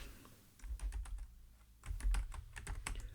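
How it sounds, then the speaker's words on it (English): Computer keyboard keys click in quick, irregular bursts, close and fairly quiet, with a short pause between two runs of typing and no talking. "Hold on for a bit of clicking while I check this."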